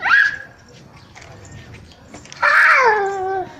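A cat gives two loud, drawn-out meows, one short cry at the start and a longer wavering one near the end, heard close up in a quiet room around a frightened child.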